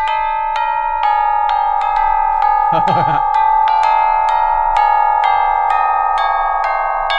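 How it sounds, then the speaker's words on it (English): Bright tubular bell chimes ring out a doorbell-style rendition of a song intro in a steady, stately melody, each struck note sustaining; a brief burst of laughter cuts in near the middle. "it plays the intro to the song, reimagined on tubular bells for that stately, welcoming sound"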